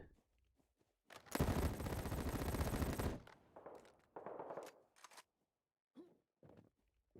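Automatic gunfire in the shooter game Battle Prime: a loud, sustained burst of about two seconds followed by a few shorter shots and scattered quieter game effects, with no talk.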